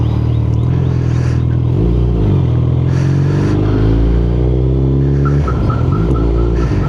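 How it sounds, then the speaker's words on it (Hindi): Suzuki Hayabusa motorcycle engine idling and revving up and down in loud, close surges, with a rising-falling pitch and a short repeated beeping tone near the end. "ये है बाइक की आवाज़ से"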